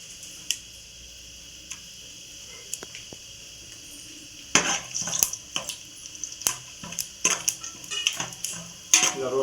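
Ingredients dropped into hot oil for biryani and stirred, giving sharp clicks and scrapes of a utensil against the pan that start sparse and turn into a busy, uneven run of clatter, with no talking.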